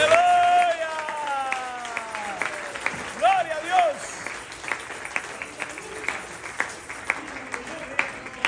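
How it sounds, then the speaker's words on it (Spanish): A church congregation applauds after a wedding blessing, steady clapping from the crowd with voices and short vocal exclamations over it, continuing at moderate level. "Fuerte ese aplauso, Dios."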